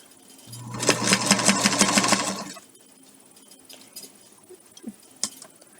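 A sewing machine stitches fabric for a bowl holder in one close, loud burst of rapid whirring lasting about two seconds, then stops, leaving a few faint clicks and handling sounds.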